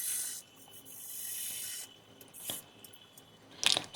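A turned wooden table leg spinning on a lathe is smoothed by a tool rubbing against the wood, making a hissing, scraping sound in uneven passes, with a brief sharper scrape at the end.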